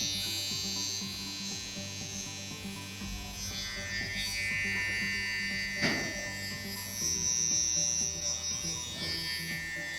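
Electric hair clipper buzzing steadily during a social haircut with scissors and machine, a constant close mechanical hum with slight shifts in pitch as it moves through hair, no talking.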